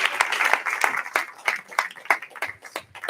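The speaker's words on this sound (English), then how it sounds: "Let's give them another round of applause." Applause from a church congregation at a Sunday service, many hands clapping in a dense, steady patter with uneven swells, close and fairly loud throughout.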